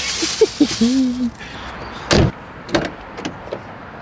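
A solid car door thuds shut once, preceded by a brief electronic chirp and followed by faint clicks and rustling nearby.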